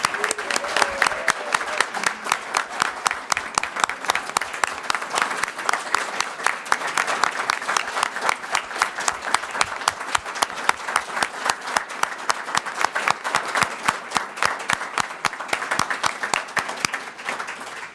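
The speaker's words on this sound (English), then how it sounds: "can we have one final round of applause for our honoree?" Sustained applause from a ceremony audience honoring a recognition-event honoree, dense steady clapping from a crowd lasting the whole stretch, with some talk mixed in beneath.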